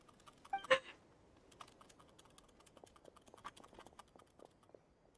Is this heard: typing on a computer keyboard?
yes